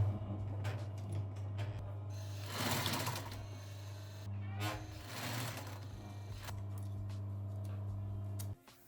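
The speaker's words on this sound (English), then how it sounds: "I'm gonna sew these together" A sewing machine runs in steady bursts, stitching pinned pieces of a thrifted men's shirt together, with brief pauses and a low motor hum throughout, close and fairly quiet, ending abruptly.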